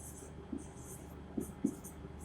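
Pen or pencil scratches across paper in a quiet room, soft and close, with a few slightly firmer strokes standing out from the faint steady scratching; no talking over it.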